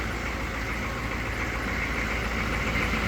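A 1995 Chevy 3500 one-ton dump truck with a 6.5L diesel idles steadily, its low engine rumble continuous and close throughout.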